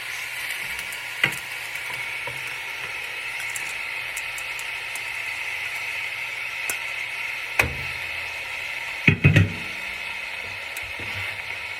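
Onions, green peppers and cabbage fry steadily in a pan, giving a constant soft sizzle and hiss throughout, with a few louder clinks and stirring knocks near the end.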